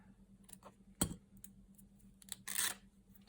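Scissors cut through craft material for large rose tags, a sharp close snip followed by scattered softer rustles and a rasping cut, quiet overall.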